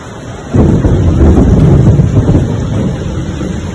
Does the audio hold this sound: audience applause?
no